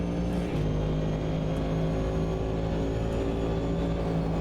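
Race car engine in the Automobilista 2 racing game during a multiclass race, held at a steady flat-out drone as the car runs through a corner sequence, loud and continuous with no talk over it.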